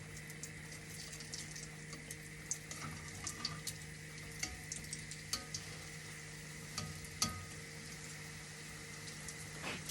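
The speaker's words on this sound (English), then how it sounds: "fry your donuts in really hot oil" Ring doughnuts fry in really hot olive oil with a steady hiss and crackle, broken by scattered sharp pops and spits, alone and fairly faint.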